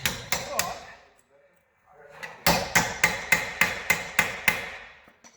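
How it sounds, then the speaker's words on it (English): Sharp metal hammer blows ring out behind the brake dust shield of a 2004 Toyota Prius during wheel bearing work: three quick strikes, a pause, then a steady run of about nine loud, evenly spaced hits. "by hammering behind this brake dust shield"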